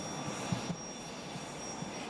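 A steady, loud whine and roar from a JSX jet aircraft on the tarmac, heard close and unbroken for the whole moment with no talk over it.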